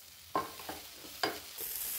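Chopped onion, from two onions, is stirred in a pan for a samosa filling: a few sharp spoon scrapes and knocks, quiet and close, ending in a soft sizzling hiss.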